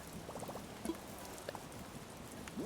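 Steady, soft rainfall in the video game Animal Crossing New Horizons makes a faint continuous patter, with a few small ticks and game sounds popping up over the drizzle and no voices.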